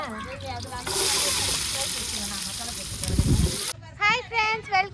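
Onions frying in a pan at home, cooked for the Aadi-month festival of offering koozh to the goddess: a loud, steady sizzle lasts about three seconds, then cuts off, and voices follow.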